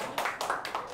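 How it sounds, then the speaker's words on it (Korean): Classroom applause in a Korean school: a brief burst of a few hand claps, moderately loud and close, with no talking over it. "예, 박수."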